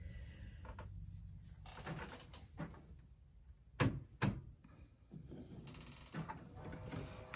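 An Epson SureColor F570 wide-format printer works quietly up close, with soft mechanical whirring, clicks and a few sharp thumps as its parts move.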